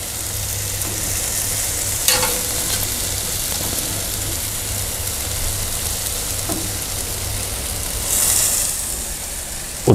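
Steak and vegetables sizzling on a gas grill, a loud dense hiss that holds steady throughout, with a couple of faint clicks and a brief sharper flare near the end, and no voices.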